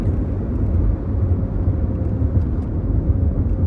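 Low, steady road rumble from inside a moving 2002-2006 Honda CR-V, a continuous engine and tire drone with no talking.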